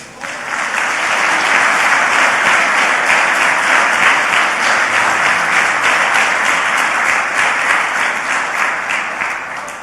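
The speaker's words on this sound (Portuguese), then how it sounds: "Dê um forte aplauso a ele." A large congregation at a family conference in a church breaks into loud, sustained applause that fills the whole stretch evenly and eases off slightly at the end.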